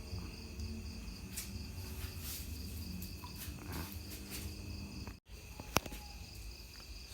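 Crickets in a concrete cricket breeding pen trill continuously in dense, high, steady chirps, moderately loud and close, with one brief dropout and a soft click near the end.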